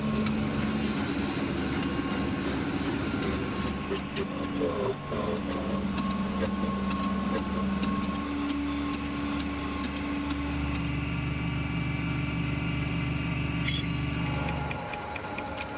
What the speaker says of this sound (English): we throw it onto the surface grinding machine with a magnetic chuck and a steady stream of liquid coolant to grind the blade flats